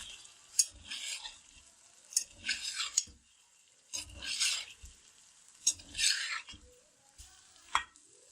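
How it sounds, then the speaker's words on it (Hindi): Bursts of stirring and sizzling as chicken fries with garlic ginger paste in a pan, with spatula scrapes coming in roughly five separate rounds; no talk. "हम इसे 5 से 6 मिनट तक जो है ना इसके साथ इसको और फ्राई करेंगे"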